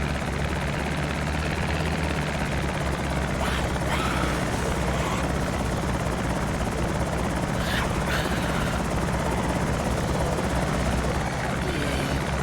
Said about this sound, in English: Oh, here comes the chopper.